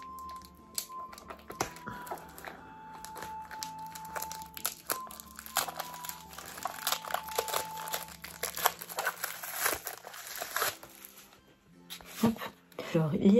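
Crinkling and tearing of the packaging around a Middle-earth map illustrated by John Howe as it is unwrapped by hand, with irregular rustles and crackles close up and a voice talking now and then.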